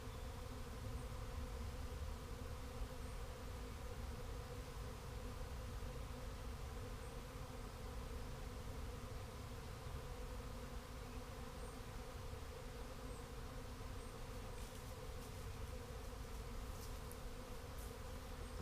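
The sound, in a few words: bee swarm buzzing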